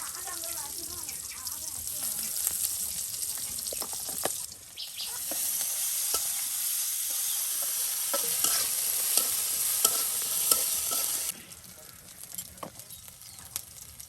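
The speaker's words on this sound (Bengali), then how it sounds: "আর এখন কুমড়োর তরকারি রান্না করা হবে।" Pumpkin curry sizzles and hisses steadily in a pan at an outdoor riverside village cooking spot, with repeated scraping stirs over the frying and a voice speaking now and then.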